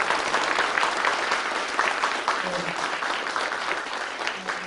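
Audience applauding three actors after a staged reading performance at a literary event, steady moderately distant clapping that holds throughout and eases slightly at the end.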